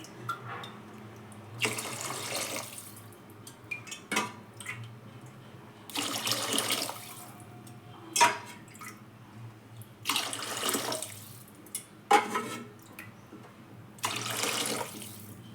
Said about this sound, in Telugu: ఇలా 6 గ్లాసులు వాటర్ వేసుకున్నాను కదండి